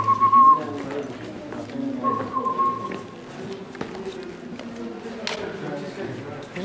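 A person whistles a short repeated tune in bright bursts amid outdoor background noise and footsteps in hot Marrakech, with talking heard alongside.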